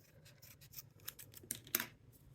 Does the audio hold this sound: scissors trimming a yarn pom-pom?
yes